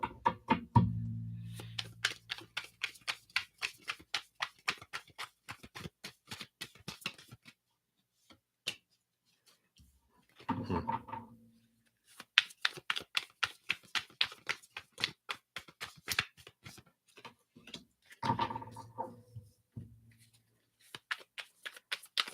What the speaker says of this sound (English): Look out, cards are flying.